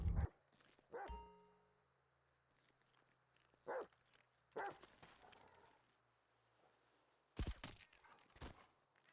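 Dog in the video game GTA Online making a few short barks and yips, mixed with scattered footsteps and thuds, faint and spaced apart.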